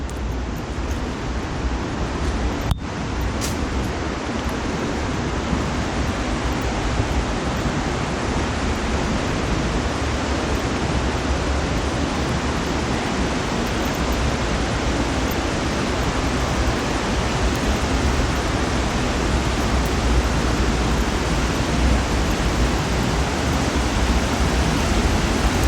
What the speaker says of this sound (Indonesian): Mulai terdengar suara gemuruh yang sangat kencang. Ini berarti ada aliran sungai bawah tanah yang cukup besar ini.